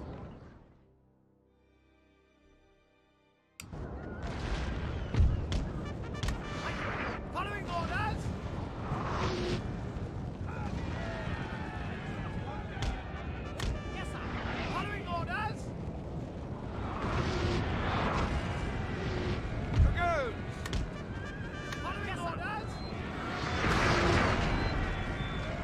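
Cannon artillery fire in Napoleon: Total War during a battle, heard as repeated booming blasts and bursts over a constant roar of the battlefield, with someone talking over much of it after a quiet opening.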